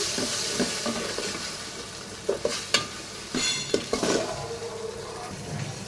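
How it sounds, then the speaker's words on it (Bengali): Garam masala spices and ginger paste fry in hot oil with a steady nearby sizzle, broken up by scraping and stirring and several sharp clanks of a utensil against the pot. "তারপরে তেল গরম মশলা সব কিছু দিয়ে ভেজে নিছি আদা বাটা একসাথেই"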